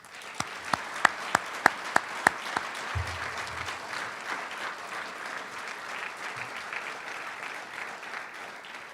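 A few sharp individual claps open, then broad applause swells from a seated audience at a fall medals ceremony honoring thesis research faculty, steady and moderately distant with a dull thump midway.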